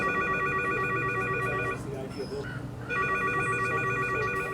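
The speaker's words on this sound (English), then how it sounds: "The phone rings off the hook but goes unanswered." A telephone rings unanswered in an empty office at a closed lake park, its repeated electronic trill pulsing in two bursts separated by a short gap, with a low background hum underneath.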